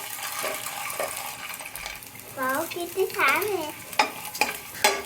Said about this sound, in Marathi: आता मीडियम टेम्परेचरवरच एक दोन तीन मिनटं मस्त आपण त्याला आहे ना ब्राऊन होईपर्यंत फ्राय करून घेऊ